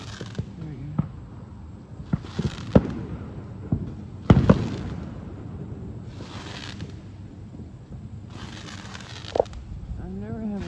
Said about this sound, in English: I have been filming fireworks on here for years.